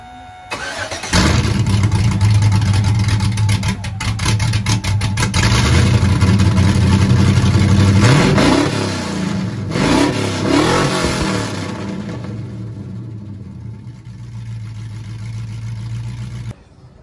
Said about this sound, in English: straight pipe sound with a little X pipe